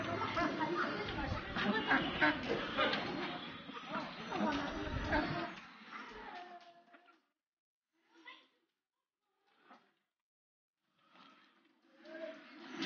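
Ducks being sold at an early-morning rural market quack among busy crowd noise and voices, then sparse scattered quacks follow in quieter moments.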